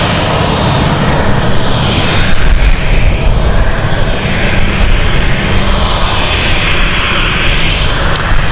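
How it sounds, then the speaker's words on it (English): A KLM airliner's engines roar loud and close at London City Airport, a dense, continuous rumble and whine holding steady throughout with no voices. "KLM on the move here"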